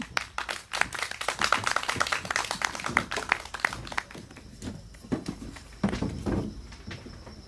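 An outdoor Seongju candlelight rally crowd clapping loudly in a dense burst, then thinning to scattered claps before a brief swell again.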